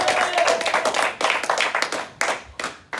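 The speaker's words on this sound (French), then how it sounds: "Clap yourself and clap for the word of God." A congregation at a prophetic and deliverance conference claps hands together, a dense, loud patter of many hands that thins into a few separate bursts near the end.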